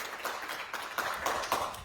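An audience clapping in a short, sparse burst of a few hands, with distinct claps landing roughly every quarter second, moderately close and without voices.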